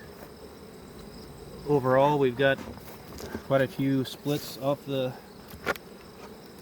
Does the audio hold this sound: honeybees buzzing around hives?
yes